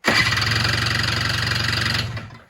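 An Izh Jupiter motorcycle engine turns over on its electric starter in one steady cranking run of rapid, even mechanical thumps for about two seconds, then winds down to a stop. It is loud and close, with no voices.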